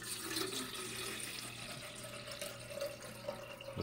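Water runs from a tap into a Primula Stewart whistling stovetop tea kettle being filled with four cups, a steady close splashing stream that shifts slightly in pitch as the kettle fills.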